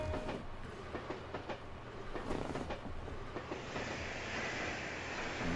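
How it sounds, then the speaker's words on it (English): A train from the Empire in the video game Trails to Azure rumbles along with a steady low roar and faint rhythmic clacks of the wheels, moderately distant and even, without speech. "帝国からの列車だ。"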